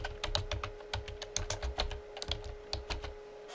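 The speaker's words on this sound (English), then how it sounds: "So I'm just going to type that in there." Quiet keystrokes on a computer keyboard, a quick irregular run of clicks across the whole stretch, heard up close and alone over a faint steady hum.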